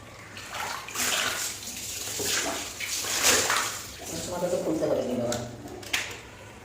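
Water splashes and runs in uneven bursts while hair is shampooed after an overnight coconut oil treatment, and a voice talks over the wet, hissing pours.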